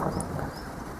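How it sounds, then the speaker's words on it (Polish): Thunder rumbles over rain during an outdoor car engine inspection, a broad steady low roll lasting the whole moment without any talk. "Zaczyna grzmieć, więc nie będę przedłużał."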